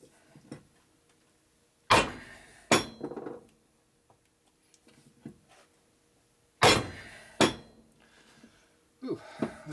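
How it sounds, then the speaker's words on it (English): Heavy blows from a 20-pound hammer ring against metal during a Harley-Davidson 1980 Shovelhead engine top-end rebuild, loud and spaced apart, each strike leaving a brief clanging decay, with quieter knocks in between. "this is a 20-pound hammer at least"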